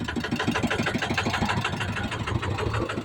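A tractor engine chugs steadily at close range while pushing on slippery ground, its rapid, even pulsing and low rumble continuing throughout with no voices.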